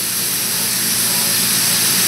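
Onion hits a hot pan for spaghetti and meatballs, setting off a loud, dense, even sizzle that holds steady without a break.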